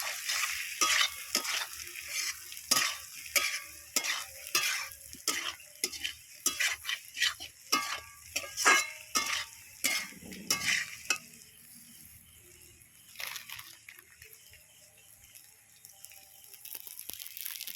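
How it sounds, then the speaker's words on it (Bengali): Potatoes with spices fry in a pan while being stirred, giving repeated scraping strokes over a sizzle; the stirring stops partway and a quieter, softer sizzle continues alone. "এবারে আমি আলুগুলো দিয়ে দিলাম।"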